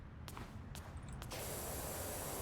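Pressure washer in PowerWash Simulator cleaning a chimney top: a few short hissing spurts, then a steady continuous spray hiss that holds to the end, quiet and without speech.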